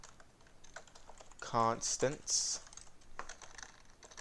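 Typing on a computer keyboard while writing a Roblox GUI script, a steady run of light, fairly close key clicks beneath a voice speaking briefly in the middle.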